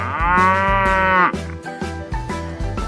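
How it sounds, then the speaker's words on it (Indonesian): A cow moos loudly and clearly, used in an animal-sound guessing game for children: one long drawn-out low call followed by shorter, rougher lowing, heard alone. "Sapi."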